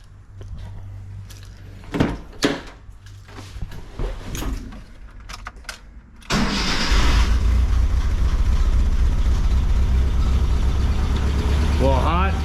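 A 1986 Mazda B2000 pickup with a swapped Weber carburetor cranks and fires up, then idles loudly and steadily after a stretch of clunks and handling noises, with a voice speaking near the end.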